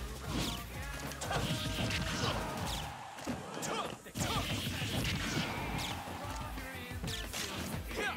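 Forward smash attacks land in a Super Smash Bros match between Falco and Cloud, a dense run of loud crashing hits and impacts layered over game music and effects, with voices talking over the action.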